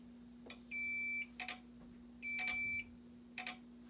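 Simplex fire alarm sounding during a manual evacuation: two long sustained electronic horn tones, each bracketed by short sharp beeps, repeating in a steady cycle over a constant background hum.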